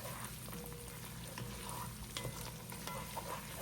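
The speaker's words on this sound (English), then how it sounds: "you should hear more of a singe rather than a boil on the beef at this point" Ground beef in a chili pot sizzles steadily while being stirred, a constant close frying crackle with occasional scraping clicks and no talking.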